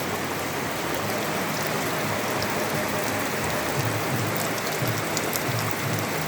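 Steady rain pours down in a dense, even hiss, close and continuous, with heavier drops pattering on a surface and no voices.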